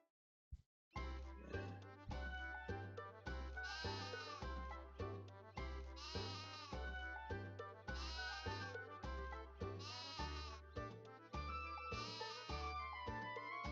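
Upbeat game music from Final Fantasy III Pixel Remaster plays steadily with a rhythmic beat, and a sheep bleats briefly near the start, faint under the music.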